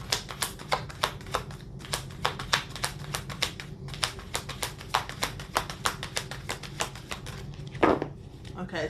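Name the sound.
shuffling tarot cards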